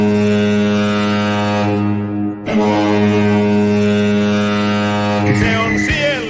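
A loud, deep, sustained goal horn for HPK in Finland's Liiga ice hockey league blares in two long blasts with a brief gap between them, and a tail of crowd or music noise enters near the end.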